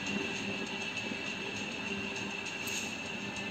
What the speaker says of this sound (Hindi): RRTS नैमो भारत, अच्छा ये वो बड़ी ट्रेन है जैसे बुलेट ट्रेन में